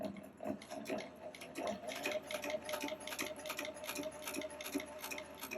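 A leather sewing machine driven by a servo motor stitches steadily, its needle producing a fast, even ticking rhythm close up with a constant motor hum underneath and no talking.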